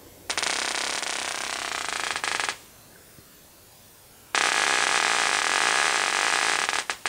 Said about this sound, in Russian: Ну, довольно интересное искрение. Ну, вообще разыскрились неплохо.